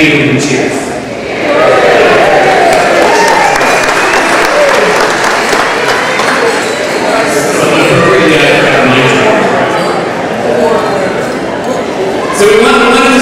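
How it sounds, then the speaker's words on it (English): Large audience at an opening event breaks into sustained, loud applause with cheering, a dense wash of clapping that holds steady for over ten seconds, close and full. "So we wanted to start with a cheer"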